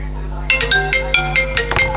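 A phone ringtone plays a repeating melody of bright, chiming electronic notes over a steady low hum, fairly loud and close.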